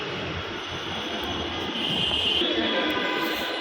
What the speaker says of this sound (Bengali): মিরপুর আসার পর কয়েকবার মেট্রো রেল গেল আর আসলো দেখলাম